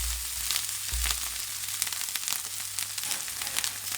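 Onion, garlic and ginger frying in a pan, a steady fizzing sizzle with faint stirring, moderately quiet and close, with no speech.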